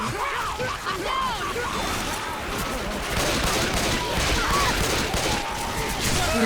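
Sustained gunfire in the zombie shooter Left 4 Dead 2, dense continuous shots and automatic bursts throughout, loud and busy, with players talking underneath.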